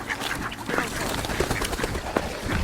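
Several ducks quack by a pond at a bog, repeated nasal calls at close range with a busy outdoor background.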